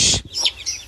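A rooster among young fighting chickens gives a brief, loud clucking call up close, followed by a couple of softer chirpy bird notes.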